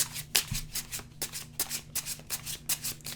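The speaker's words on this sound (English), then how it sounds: "And these cards are shuffling really nicely in this way." Tarot cards are shuffled by hand at close range, a quick run of soft riffling slaps and flutters in an uneven rhythm, with no talking over them.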